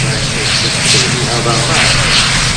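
A propeller aircraft lands during the Farnborough Airshow 2024, its broad engine roar droning steadily and swelling slightly as it passes, with a voice talking over it.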